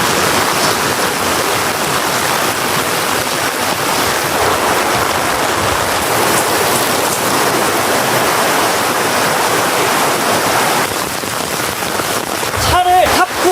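Rain falls steadily on a camping tarp set up at a wet campsite, a dense, loud, even hiss that runs the whole time, with a brief knock or rustle near the end.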